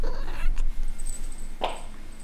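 A house cat meows indoors, a short nasal cry at the start followed by a second sharper meow later, fairly close and clear over a quiet room.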